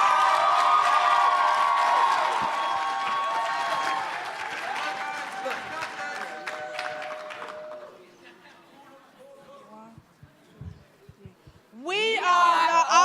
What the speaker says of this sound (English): Let's give a great big Aspen Challenge round of applause for Austin as they present.